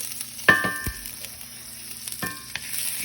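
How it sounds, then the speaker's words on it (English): Butter sizzling in a skillet before eggs go in for a bacon, egg and cheese breakfast sandwich, a steady close frying hiss with a few sharp clicks and crackles. "butter in the skillet for the eggs"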